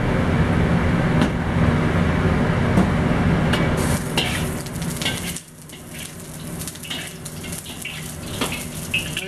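Boiled chow mein noodles pan frying in hot oil for pork Cantonese chow mein, a steady close sizzle with stirring scrapes that quiets and thins partway through, no talking.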